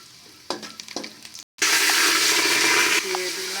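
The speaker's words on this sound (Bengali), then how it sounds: "এখানে তেল দিয়ে দিচ্ছি পাতিলে, দিয়ে কিছু পেঁয়াজ দিয়ে দিলাম, দিয়ে পেঁয়াজটা এখন ভেজে নেব।" Onions frying in oil in a cooking pot: a loud, steady broadband sizzle erupts after a brief silence and holds, easing slightly near the end, preceded by quieter clinks and stirring.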